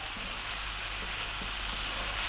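Fried rice sizzles hard in a pan over maximum heat, a loud, dense, unbroken crackle close by with faint stirring scrapes and no talk.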